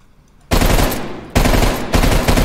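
Rapid automatic gunfire from a shooter video game comes in three loud, close bursts, each a dense rattling stream separated by short pauses.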